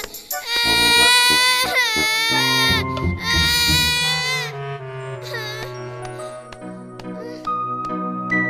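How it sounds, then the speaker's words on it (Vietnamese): A young child cries loudly in sobbing, wailing bursts indoors, easing into softer whimpers and sniffles near the end over a faint tinkling tone. "Thôi mà, đừng có khóc nữa mà."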